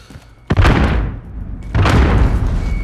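Semtex grenade explosions in Call of Duty Modern Warfare multiplayer, two loud, booming blasts about a second apart, each with a heavy thud and a rumbling decay.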